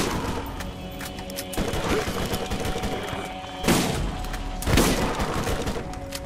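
Gunfire in the video game Borderlands, with rapid repeated shots and two heavier booming blasts, loud and continuous over a busy game soundscape.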